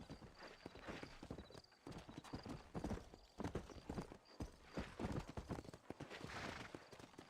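Hooves clip-clop steadily over the ground at a walking pace, with several horses moving together leaving town in the video game Red Dead Redemption's busy soundscape.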